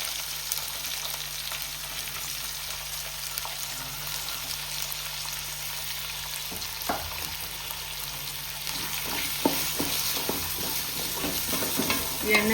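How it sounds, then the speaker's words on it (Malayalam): Shallots and onions fry in hot oil for chicken biryani, giving a steady crackling sizzle throughout, with scattered scrapes and taps of a spoon stirring them in the pan. "എണ്ണയിൽ കിടന്ന് സവാളയും ചെറിയ ഉള്ളിയും കൂടെ നല്ലപോലെ ഒന്ന് വസങ്ങി നല്ലതുപോലെ ആവണം."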